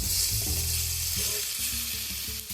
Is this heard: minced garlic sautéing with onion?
yes